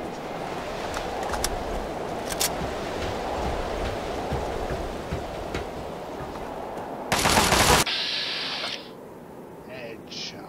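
Sustained gunfire in Fallout 3's Anchorage setting, a dense continuous rattle of shots filling the scene, with a brief louder burst near the end before it fades to quieter game ambience.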